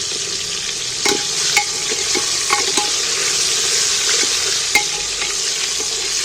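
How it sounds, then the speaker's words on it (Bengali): Whole onions frying in a pan for mutton, a dense continuous sizzle up close with a few sharp spoon knocks and scrapes scattered through, no voices. "পেঁয়াজগুলো ভাজা হয়ে গেছে"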